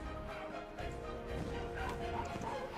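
Quiet dog whimpers and yips from a Minecraft pet dog, low in level and blended into a busy game soundscape with continuous background noise.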